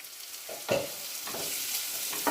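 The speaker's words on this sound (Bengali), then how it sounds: "ঢাকনাটা তুলে আমি একটু নেড়ে দিচ্ছি" Cauliflower frying in a pan is stirred, with a few scraping strokes rising over a continuous close sizzle and no voices.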